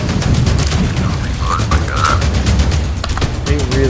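Ship cannons firing cannonballs in Sea of Thieves: heavy, rapid booms and blasts stack up throughout, loud and close, over intense game music and some background voices.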